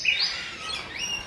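A grey jungle fowl at a zoo gives a clear, fairly close call of rapid high chirping notes that rise and fall over about a second.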